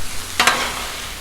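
Onions and beef hitting a hot Blackstone griddle for a beef noodle stir fry: a sudden close, bright burst of sizzling with a brief scrape, settling quickly into a soft steady hiss.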